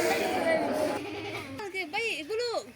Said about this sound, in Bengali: ছাগল আর একটা চলে আসছে।